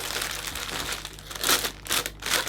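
Cellophane wrap for a hand-tied Christmas arrangement is folded and crinkled close by, a steady crackling rustle that swells into several louder crinkly bursts toward the end, with no voices.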